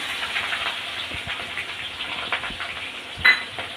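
Chopped onion, cut into thick pieces, frying in hot oil for a Bengali egg and potato curry, giving a steady close hiss and sizzle with soft crackles and one brief sharper pop near the end.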